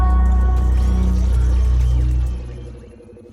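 Glitchy digital stutter from a Logic Pro crash at the end of a song, a loud dense burst of smeared, warbling music that cuts off and trails away after about two seconds.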